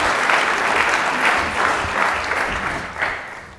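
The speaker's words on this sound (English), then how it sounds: "So now, with a warm round of welcoming applause, I would like to invite Michael Hanna to take the floor." A lecture audience gives a warm round of welcoming applause as a speaker is invited to the floor, dense steady clapping from a seated crowd, loud and continuous, tapering slightly toward the end.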